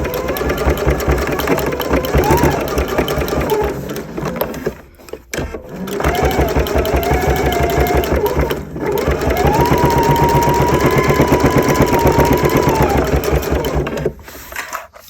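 Sewing machine stitching bias binding onto a fabric tote bag, running in long continuous loud bursts with a steady mechanical drone, pausing briefly around the middle and near the end.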